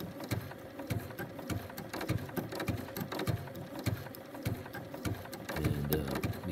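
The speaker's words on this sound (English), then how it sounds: "You do the widest zigzag stitch you have." A domestic sewing machine runs a wide 9 mm zigzag stitch along a raw fabric edge, giving a steady rapid mechanical chatter with rhythmic needle ticks, close up and alone with no talking.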